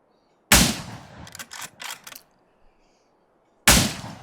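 Two sharp, loud gunshots from an M40 sniper rifle in Miscreated, spaced about three seconds apart, with a rattling mechanical echo trailing the first shot.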